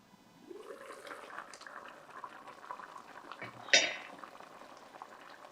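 Chicken stew of carrots, potatoes and meat simmers quietly under a cover in a pot, giving soft low bubbling with one sharper clink partway through, without any talking.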